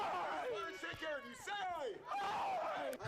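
An audience whoops and yells in rising, excited cheers, several voices overlapping in loud bursts with short dips between them.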